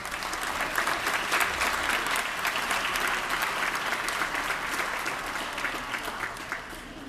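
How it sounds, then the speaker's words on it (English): An audience at the 2019 Latino Spirit Awards ceremony gives a sustained round of applause for the honorees, with many hands clapping steadily at moderate volume and a faint crowd murmur underneath. "If we can all have another big round of applause for all of our honorees today."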